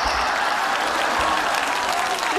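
Applause from neighbours gathered outside a family home, a steady dense patter of many hands clapping close by, continuous through the short stretch with no voices over it.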